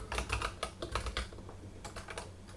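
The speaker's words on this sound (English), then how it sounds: "I'm going to type, Notepad, and then the whole thing" Typing on a computer keyboard, bursts of quick, close, crisp key clicks with short pauses between, alone in a quiet room.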